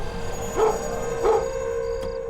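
A dog gives two short, muffled barks or yips at a steady pace, partly buried under a constant hum and background noise outdoors near a parked van.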